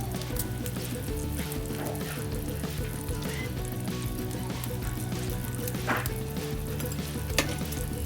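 Bacon frying in a cast iron pan gives off a constant dense sizzle and crackle, with scattered sharp pops and a faint low background hum throughout; no one speaks.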